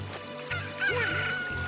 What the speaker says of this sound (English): How about I wake you up with a chicken?